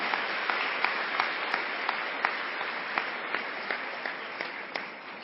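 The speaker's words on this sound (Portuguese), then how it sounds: "Vai aplaudindo quem está ouvindo isso." A church congregation applauds during a sermon, a continuous wash of clapping at moderate level with a few sharper individual claps standing out.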